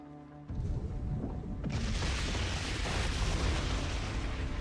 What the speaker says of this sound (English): we use our catapults, and we place some delicious explosions